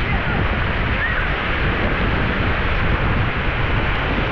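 A constant roar of wind and surf at a Philippine seashore near a river mouth, loud and unbroken, with gusts battering the microphone and a faint voice underneath.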